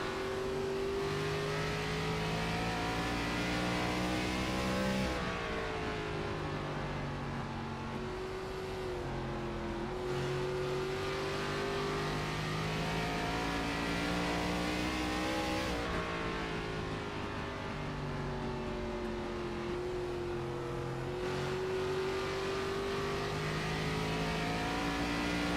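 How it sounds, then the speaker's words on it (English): Race car engine lapping Indianapolis Raceway Park in a Midwest Elite Racing event, a loud continuous onboard drone whose pitch rises and falls with each throttle lift and re-application through the corners, no voices. "we'll listen in here for a lap here for Tony"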